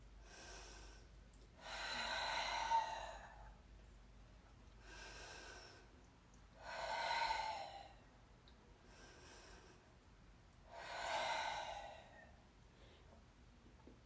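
Deep breathing during a yoga class: three slow, loud airy inhales or exhales, each lasting about two seconds, separated by quiet pauses.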